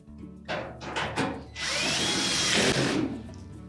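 A power drill whirs in short bursts and then runs steadily, driving the retaining screw into a Whirlpool dryer panel. The sound is close and loud, and the motor winds down at the end.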